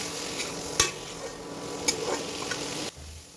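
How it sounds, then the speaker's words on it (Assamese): Soybean curry with turmeric and spices sizzles steadily in a pan, giving a constant hiss. A few soft clinks of stirring are heard, and there is no talk. "এই গোটেইখিনি দি কিছু সময় ভাজিম"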